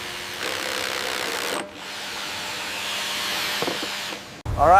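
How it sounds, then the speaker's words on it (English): A power drill bores holes into the wooden deck of a historic ship being restored, producing a steady whirring drone with a brief pause partway through, followed by an abrupt cut. "drilling holes into the deck for new brass fittings."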